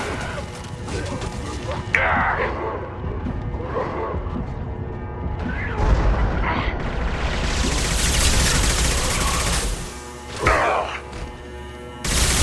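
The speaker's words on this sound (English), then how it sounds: "Taking heavy fire!" Heavy gunfire in the Mass Effect 2 video game, with bursts of shots, impacts and crashing blasts layered over a busy combat soundscape, broken by brief louder hits.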